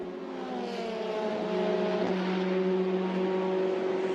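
Formula Renault 2.0 race cars on the last laps at Spa-Francorchamps, engines whining at high pitch as they pass, the tone rising and sliding with gear changes, loud and continuous.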